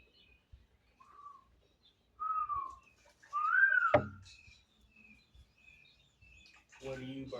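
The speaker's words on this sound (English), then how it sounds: "What do you birds want?" Birds chirping outdoors, giving a few scattered whistled calls and chirps with quiet gaps between them, with a sharp knock midway and a brief voice at the end.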